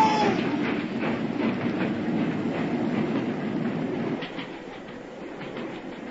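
Steady rumble and rhythmic clatter of a train running on rails, produced as a radio drama sound effect, loud and continuous before easing slightly toward the end, with no talk.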